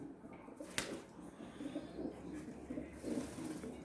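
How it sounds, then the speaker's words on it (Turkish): Pigeons coo inside a coop, soft repeated low calls close by with one sharp click partway through and faint rustling around them. "Arkadaşlar güvercinler bunlar böyle."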